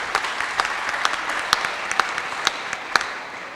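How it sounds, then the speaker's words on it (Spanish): Audience applause for a panelist at a university-affiliated electoral tribunal event, a steady dense wash of clapping with scattered sharper claps, moderately loud and continuous throughout. "Un aplauso"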